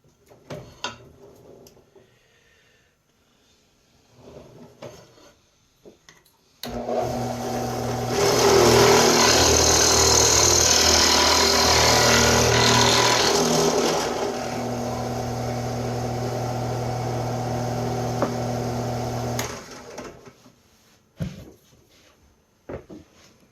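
A drill press bores into a soapstone pipe with a half-inch bit, a steady motor drone holding for about thirteen seconds with a louder grinding stretch early on, near and alone.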